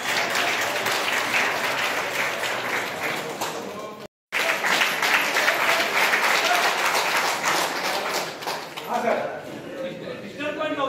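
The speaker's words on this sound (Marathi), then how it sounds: "प्लीज टाळ्या वाजवा सगळ्यांनी." An audience at an acupuncture training program in Kolhapur claps in sustained applause, loud and continuous for several seconds with a brief break, while voices carry through underneath.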